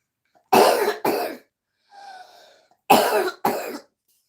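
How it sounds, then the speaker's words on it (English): An older adult coughs hard four times, in two close pairs, loud and near, with a faint throat sound in the quiet gap between them. "It's like the cough counts for something."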